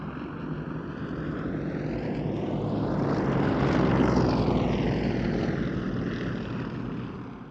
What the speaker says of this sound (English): Barrel rolls around the wing of these aircraft.